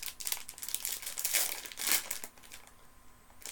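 Plastic wrapping from Christmas chocolates crinkles and crackles up close in a few loud bursts, then trails off to near quiet, with no voices.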